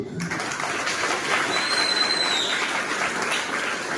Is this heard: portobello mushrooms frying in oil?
no